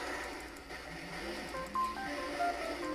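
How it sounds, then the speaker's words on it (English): A phone chimes with a text message notification: two brief, faint electronic beeps over a steady background hum, with no talking. "Sorry, that's my phone got a text message."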